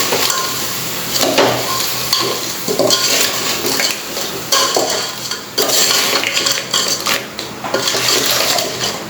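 A spoon scraping and clinking through Goan crab bafat in a pan, close and busy, with irregular metallic knocks over a steady sizzle and no voices.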